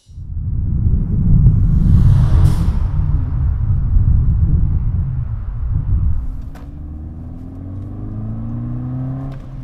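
VW 2.0T TSI engine with an atmospheric turbo diverter valve spacer, a loud revving rumble under acceleration followed by an airy whoosh as the car shifts, then a quieter steady drone, with no talking.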